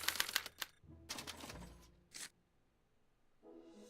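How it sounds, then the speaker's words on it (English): A special typewriter clatters as it prints out a punch card, with bursts of rapid keystrokes and mechanical rattling separated by short pauses, close and fairly quiet, followed by a soft low hum. "they're relayed to this special typewriter, which prints out a punch card that represents the subject's mind map"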